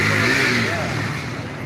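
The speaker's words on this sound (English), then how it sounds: "Did he just rev up that moped?" A moped engine revs nearby during an outdoor spring walk in Mount Dora, a short rising buzz of a small motor over background street noise.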